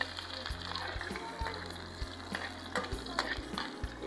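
Onions fry in oil for aloo palak, a close continuous sizzle with stirring scrapes and a low rhythmic mechanical hum underneath.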